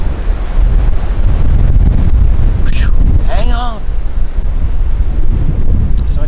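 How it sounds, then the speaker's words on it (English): Strong wind gusts of 30 to 40 mph buffet the microphone outdoors during a Nebraska whitetail archery hunt, making a loud, constant roar throughout. Someone briefly speaks under the noise. "we've got 30 to 40 mile an hour gust, and I just happen to be right in the middle of it."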